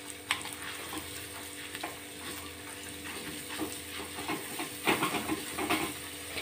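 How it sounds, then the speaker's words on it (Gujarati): Crushed chutney and asafoetida dropped into hot oil, giving a continuous close sizzle and hiss with scattered stirring clicks and pops that swell toward the end. "તેલ આપણું એકદમ સરસ રીતે ગરમ થઈ ગયું છે, તેમાં આપણે હિંગ એડ કરીશું, ક્રશ કરેલી ચટણી એડ કરવાની છે"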